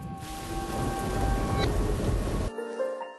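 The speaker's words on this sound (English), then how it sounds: "दूसरी तरफ Toronto international airport पे the thunder storms are already rolling through" Heavy rain hisses steadily as a thunderstorm rolls over Toronto's international airport, loud and dense, then drops sharply to a quieter, thinner patter near the end.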